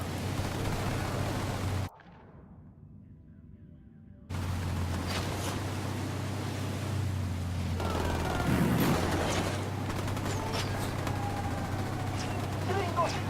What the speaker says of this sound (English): Bravo opening fire.